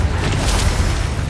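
A Bombarda explosion spell goes off in the Hogwarts Legacy video game, a loud, dense blast with a sustained low rumble filling the whole moment.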